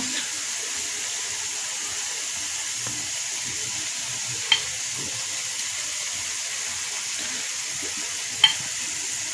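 Carrot halwa with khoya being mixed in a pan gives off a soft, even cooking hiss throughout, with two faint spoon scrapes standing out.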